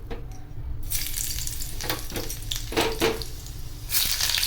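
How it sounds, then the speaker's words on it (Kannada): Garlic and cumin tempering for masala khichdi sizzle and crackle in hot oil in a pan, a steady close frying hiss with occasional brighter bursts as the spices are stirred. "ಈಗ ನಾನು ಬೆಳ್ಳುಳ್ಳಿ ಒಗ್ಗರಣೆ ಮತ್ತು ಜೀರಿಗೆ ಒಗ್ಗರಣೆ ಹಾಕ್ತಾಯಿದ್ದೇನೆ"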